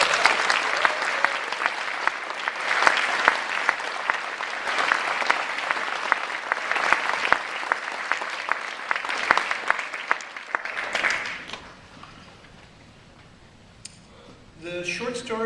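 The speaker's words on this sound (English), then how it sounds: "I think it would be great if we gave everybody a round of applause" Audience applause at the 2011 Nebula Awards ceremony honoring the award nominees, a dense, sustained roar of many clapping hands for about eleven seconds before it cuts off, leaving quiet room noise and a brief voice.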